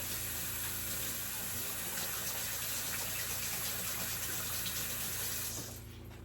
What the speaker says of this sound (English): I'm just gonna wash my hands real quick here.